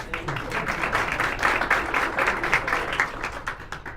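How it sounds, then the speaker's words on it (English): Audience applause after an engineering design presentation at a university, a steady wash of clapping lasting throughout, moderately loud and continuous. "I think she deserves a hot claps for me"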